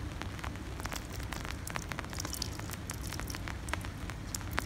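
Spring rain and thaw drips fall outdoors beneath snowy mountains, a quiet, steady patter of scattered close ticks and taps over a soft wet hiss.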